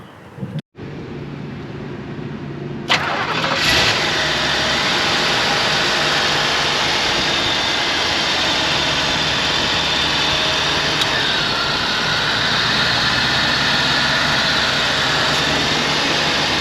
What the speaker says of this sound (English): get inside the car and fire on up